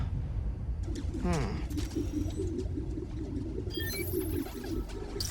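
A recording of pigeons cooing plays in the Spider-Man: Miles Morales video game, soft repeated coos and a few chirps heard under a steady background hum and game ambience.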